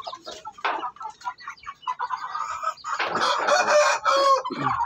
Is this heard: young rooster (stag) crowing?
yes